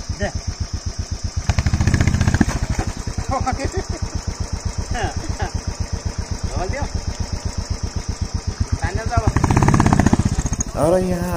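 A motorcycle stuck in a muddy pothole on a dangerous rural mountain road in Rukum East, Nepal, idles with a steady close thump and revs hard twice in loud surges, with voices in the background.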